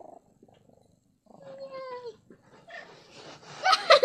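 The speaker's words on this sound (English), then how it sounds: "wait for him to meow" A pet cat meows for food, with a clear drawn-out meow in the middle followed by a few shorter, louder vocal cries near the end, set against quiet room sounds.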